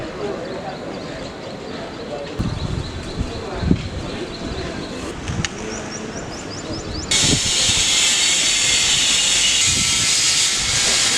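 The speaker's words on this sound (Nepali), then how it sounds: "यहाँ जहाजहरू आएर बस्छ है डोमेस्टिकको" A domestic passenger jet's engine builds into a steady, loud roaring hiss partway through and holds it to the end, over background rumble and faint indistinct voices.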